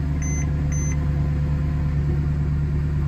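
A handmade Mercedes-Benz C63 AMG engine idles with a steady low hum, preceded by two short electronic beeps near the start; no one speaks.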